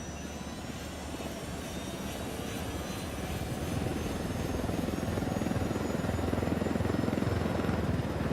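A helicopter in the Bolivian setting of Ghost Recon Wildlands holds a steady, rumbling rotor thrum with a dense low chop that slowly grows louder across the stretch, with no voices.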